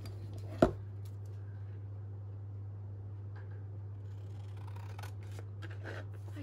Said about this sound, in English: I'm just going to trim these other edges down with my scissors.